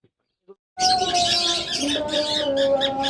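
Caged birds at a bird farm break into a busy chorus of chirps and squawks after a brief near-silent start, loud and close with overlapping calls.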